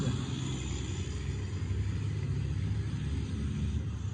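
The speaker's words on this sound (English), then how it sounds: "An 18-wheeler just went by. You could hear the exhaust." An 18-wheeler truck rumbles past on the road, a steady, loud low engine drone with exhaust roar filling the whole stretch.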